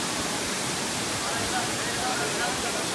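Strong flowing water at Tirumala gives off a steady broadband rush, a continuous hiss with a low rumble underneath, holding at an even level throughout without breaks.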